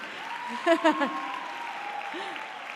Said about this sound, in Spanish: Les damos un fuerte aplauso a los amigos de Odyssey.